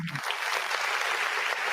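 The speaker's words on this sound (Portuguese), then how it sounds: "Aplausos para vocês" Short burst of applause at a sports event, Londrina versus Guarani, following a brief low sound at the start and then holding as a steady, loud wash of clapping.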